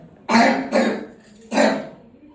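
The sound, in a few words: child coughing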